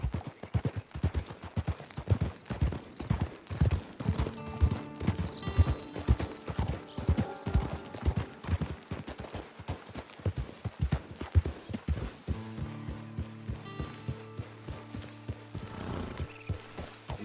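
A horse ridden in Red Dead Redemption 2 Online, heading for camp: rhythmic clip-clopping hooves close by, a brief whinny, and in the latter half sustained game music and sounds layered over the hoofbeats.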